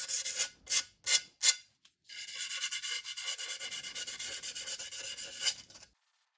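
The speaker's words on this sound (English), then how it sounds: "I'm going to sand the edges of it a little bit." Sanding the edges of a freshly cut mirror: several short separate rasping strokes, then one long steady grinding scrape, close and fairly loud, ending abruptly in silence.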